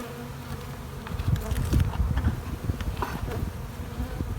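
Honey bees swarm over the frames of an open hive at the start of spring, a dense, continuous buzzing drone close by, swelling slightly in the middle, with no voices.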